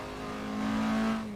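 A racing car engine in a video game hums steadily, swelling briefly as it revs and then easing off, with no voices over it.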